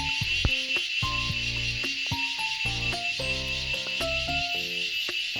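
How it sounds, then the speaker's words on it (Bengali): Crickets chirp in the hills in a dense, unbroken trill throughout, with lower tonal notes sounding beneath them. "কেমন ঝিঝি পোকা ডাকছে একবার শুনুন।"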